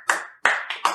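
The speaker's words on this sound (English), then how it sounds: "Wow, you got applause for it" Sparse, close clapping from a small group in a room where a band is being interviewed, with several distinct bursts in quick succession and no talking over them.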